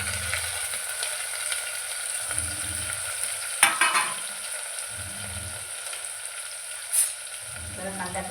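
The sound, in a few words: onion and tomato frying and being stirred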